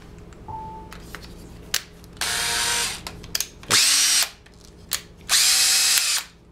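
An electric drill fitted with a homemade wine must mixer and degasser whirs in three separate loud bursts of a second or so each, with short clicks and handling noises between them and no talk.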